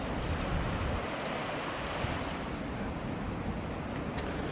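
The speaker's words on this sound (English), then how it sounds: "Oh, look at the speed of that tide too. It's really flowing, isn't it, that water?" Tidal water flowing out fast at Shaldon, Devon, a steady broad rush and wash of moving water mixed with wind buffeting the microphone, continuous with no talking.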